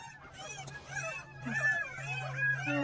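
Newborn puppies from a rescued stray dog's litter whimper and squeak in thin, high, wavering cries, several overlapping calls repeating close by and quietly, over a faint steady low hum.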